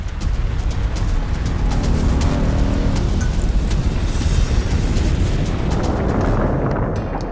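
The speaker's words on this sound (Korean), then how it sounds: "규슈의 기리시마에서는 두 차례에 걸쳐 대형 화산이 폭발했다" A volcano erupts at Kirishima in Kyushu, Japan, a loud, continuous roaring rumble with crackling bursts that holds steady throughout before easing slightly at the end.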